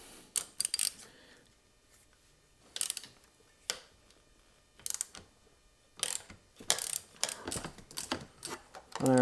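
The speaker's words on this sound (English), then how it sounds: "a ratchet rather than the impact gun on this" A 10 mm ratchet works loose a steering head bolt on a Yamaha Tenere 700 motorcycle, giving short bursts of close, crisp clicking separated by pauses, the bursts growing more frequent near the end.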